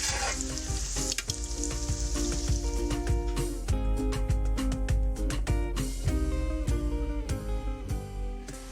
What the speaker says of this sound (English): We're gonna fry them the second time at a higher heat to get them nice and crispy.